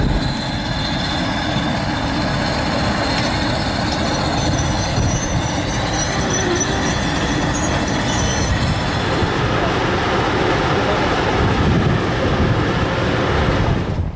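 A heritage train pulled back downhill by two DG diesel locomotives, 791 and 770, rolls past loud and close in New Zealand, with continuous wheel rumble, squealing and rail noise over the whole stretch.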